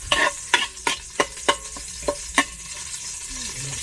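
Garlic sizzles in hot oil in a pan while a utensil stirs and scrapes it in quick, regular strokes, about eight sharp clatters over a steady frying hiss.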